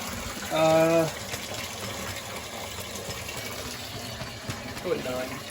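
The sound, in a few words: water draining from flooded steam heating system into buckets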